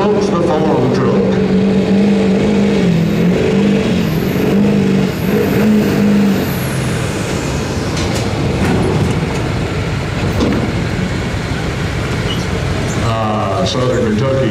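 A diesel street truck hauls a pulling sled at a Kentucky pulling event, its engine roaring loud and sustained as it strains down the track, with a crowd and announcer talking beneath the drone.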